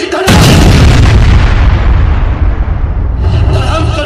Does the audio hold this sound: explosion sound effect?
yes